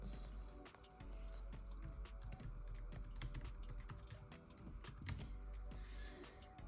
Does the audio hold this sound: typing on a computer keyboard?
yes